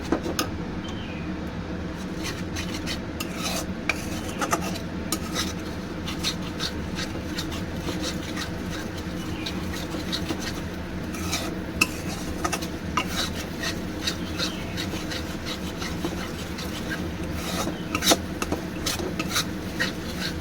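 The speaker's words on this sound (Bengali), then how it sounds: "সমানে নেড়ে ভালো করে মশলার সঙ্গে কষিয়ে নেব।" Spices and sour yogurt for dhokar dalna stirred in a pan with a spoon, a steady scraping and rubbing that continues throughout, close and fairly loud with clinks of the utensil against the pan.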